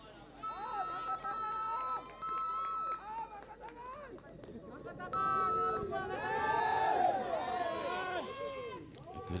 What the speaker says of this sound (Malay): Itu dia sorakan-sorakan daripada pasukan ATM